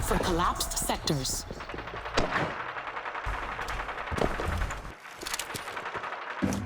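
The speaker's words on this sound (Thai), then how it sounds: "เป็นยิงกันตรงไหนวะเพื่อน" Video game gunfire in Hyper Scape: bursts of rapid shots crackle at moderate distance, ebbing and returning over several seconds beneath someone talking excitedly.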